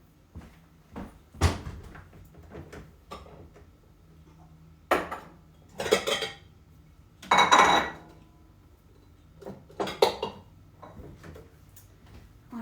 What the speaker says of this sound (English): let me go grab a bowl